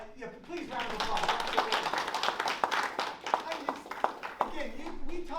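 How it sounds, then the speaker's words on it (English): Scattered clapping from a small group of people rises into light applause, sharp irregular claps close by, with voices talking underneath. "please round of applause"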